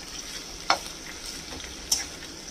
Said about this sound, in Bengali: সাথে 4টে লবঙ্গ দিয়ে এটাকে একটু ভেজে নেব, আগে হালকা ট্রান্সলুসেন্ট করে নেব।